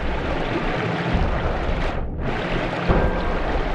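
Water floods an area in the video game Noita with a loud, continuous rushing wash. The roar dips briefly midway, then resumes.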